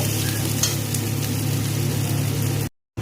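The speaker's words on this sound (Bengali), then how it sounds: "পেঁয়াজটাকে একটু ভেজে নেব।" Onions fry in hot oil tempered with cumin, dried red chilli and bay leaf, giving a loud, continuous close-up sizzle that cuts off abruptly just before the end.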